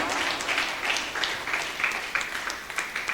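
A church congregation applauds in a steady wash of clapping that carries through the whole stretch at moderate loudness, with faint voices and cheers mixed into the crowd.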